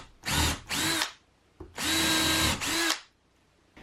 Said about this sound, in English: I'm just going to countersink a little bit here